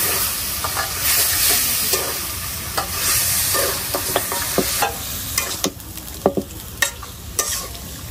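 Country rooster meat frying in spiced oil in a village kitchen, a loud steady sizzle with scraping stirs of the pan, the sizzle easing as separate clanks and scrapes grow sharper.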